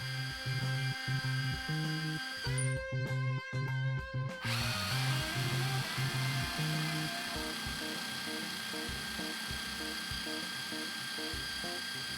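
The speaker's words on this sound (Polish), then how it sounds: "Testy zakończyliśmy czystym i szybkim wierceniem w desce sosnowej" An Alpen Timber Twist spiral wood drill bit in a power drill bores steadily into a pine board throughout, the bore noise and whine pulsing as it cuts, with a brief higher-pitched stretch near the start.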